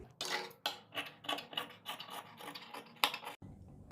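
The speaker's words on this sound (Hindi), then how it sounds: "सिलाई के बाद अब हम अपने नेक के अंदर का कपड़ा थोड़ा छोड़ते हुए कटिंग करेंगे" Scissors snipping fabric inside a kurti neckline, a quick series of close, crisp cutting crunches in a steady rhythm, ending with a short clack.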